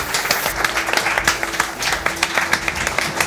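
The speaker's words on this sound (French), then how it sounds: "on l'applaudit s'il vous plaît" Audience applause at a live show, a steady patter of many hands clapping at close range, with a faint hum underneath and no talk over it.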